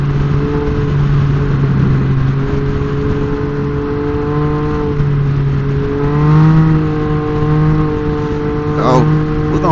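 A Can-Am Ryker 900 three-wheeler engine drones steadily while riding on a city road, its pitch rising and falling slightly with throttle, with muffled voices over it.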